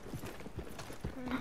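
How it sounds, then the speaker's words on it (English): Horse hooves clip-clop at a walking pace in a video game, a short run of soft, steady hoofbeats at moderate volume. "Yeah, we can get on our horses"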